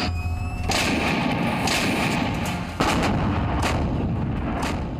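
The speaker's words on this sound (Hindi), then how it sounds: "ये वो जगह है जहां दोनों पक्षों के बीच लगातार बिना रुके कई दिनों से गोलाबारी हो रही है और गोलीबारी के धमाके यहां एक आम सी बात हो गई है।" Heavy artillery shelling in the Kargil war mountains, loud rolling booms and blasts overlapping in quick succession with a sharp new impact midway, no speech.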